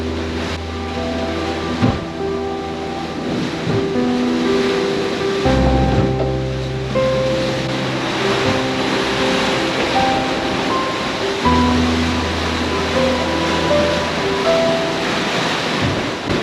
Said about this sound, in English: We're taking a pounding. These waves were quite choppy.